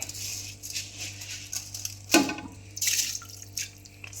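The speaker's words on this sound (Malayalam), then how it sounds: "അപ്പോൾ നമ്മൾ വെള്ളം ഒഴിച്ച് കൊടുക്കണ്ട" Water splashes and trickles into a pot for cooking rice, with a sharper pouring burst midway amid faint dripping and a steady low hum.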